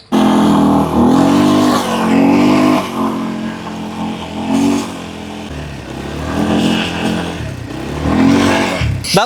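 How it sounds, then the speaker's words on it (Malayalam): A car driving out for desert dune bashing near Dubai, its engine droning steadily and revving up in repeated surges, loud and close throughout with no voices over it. "നമ്മള് ഡ്യൂൺ ഭാഷയ്ക്ക് ഈ കാറും കൊണ്ടാണ് പോകുന്നത്"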